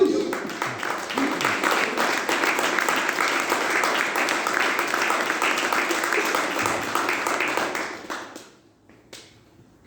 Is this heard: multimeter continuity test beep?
no